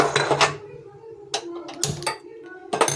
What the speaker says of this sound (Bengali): আমি কড়াইটা বসিয়ে দিলাম।